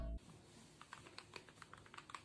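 A hand-wired mechanical keyboard with an acrylic case and XDA-profile keycaps is typed on, giving a run of dense, quick clacks in an uneven rhythm, close and fairly soft, with no voices.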